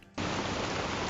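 A played recording of rain cuts in abruptly after a brief quiet moment, then runs as a steady, even hiss of falling rain at moderate loudness.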